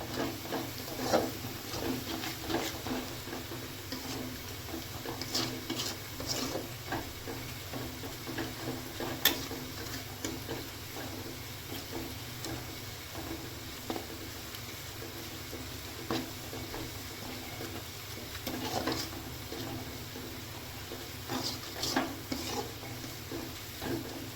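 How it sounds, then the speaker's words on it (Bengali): Onion and garlic fry quietly in a pan for a Bengali chicken curry, with a soft continuous sizzle broken by occasional scraping stirs and light utensil clicks, fairly faint and without talk. "তো দেখো পেঁয়াজটা লাল হয়ে আসতে আমি কিন্তু রসুনটাও তুলে দিয়েছি"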